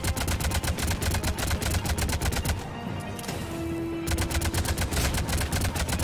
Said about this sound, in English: I want you just to shoot that thing into the air, do not hit any of the enemies until your ammo runs out